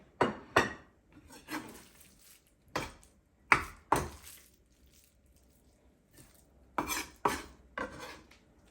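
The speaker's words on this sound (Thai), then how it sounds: "ไก่นะคะเราจะไม่สับให้ละเอียดนะคะ เพราะว่า ถ้าสับละเอียดมันจะไม่สวยนะคะ ก็เอาพอหยาบๆนะคะ" Raw chicken being coarsely chopped for Thai larb, with sharp, irregular knife strikes on a board in small bursts of one to three, separated by quiet gaps and light handling noises.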